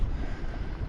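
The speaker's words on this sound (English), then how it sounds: "Sailing with the engine off at last." A sailboat under sail with its engine off at night in the Solent between Portsmouth and Lymington, heard as steady wind noise mixed with rushing water along the hull. The sound is close, continuous and has no voices.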